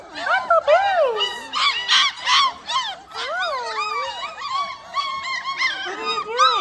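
Puppies yelp and whine in a busy overlapping chorus of high, rising and falling cries, close by and fairly loud throughout.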